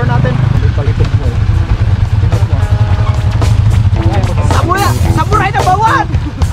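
A motorcycle engine runs steadily at close range on a mountain trail, its low rumble continuous throughout while people talk and call out over it.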